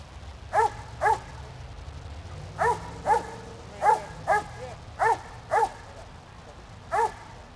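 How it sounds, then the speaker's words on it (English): An agitated working dog at a K9 sport trial barks in paired bursts, about ten deep barks spaced through the clip, loud and fairly close over low background noise. "That dog's ready to go. That dog is very angry."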